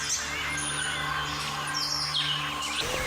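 Birds call and chirp in a forest, several high chirps and whistles scattered over a steady background hum, moderately loud with no voices.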